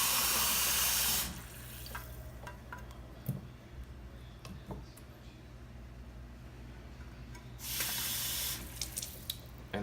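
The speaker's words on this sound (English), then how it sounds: "I'm gonna fill this up with water" Water gushes from a kitchen tap into a can while sweet rice bibingkang kalamay is being made. It comes in two loud, close bursts at the start and the end, with quieter handling sounds between.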